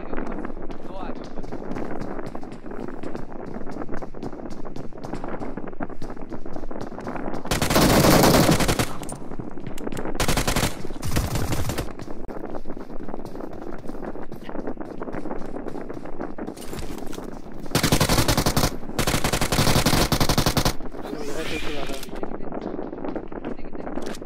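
Bursts of rapid machine gun fire in the video game BGMI (Battlegrounds Mobile India), several sustained volleys separated by pauses over a steady background hum.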